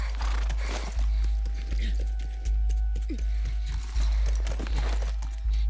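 Horse hooves clip-clop at a steady walking rhythm in the game The Last of Us Remastered, heavy and close, with a regular repeating beat under a low drone.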